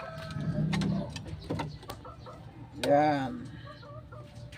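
Chickens cluck softly nearby, with a rooster giving a short call midway, while a person speaks briefly.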